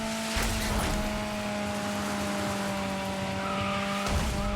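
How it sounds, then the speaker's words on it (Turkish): Rally car in the racing game Dirt 5 sliding and skidding, a loud sustained engine drone with a steady tonal whine and gritty tire scrabble, plus brief bumps or impacts at the start and end. "bu araba bu araba bayağı kayıyor gibi"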